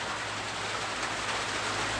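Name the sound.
rain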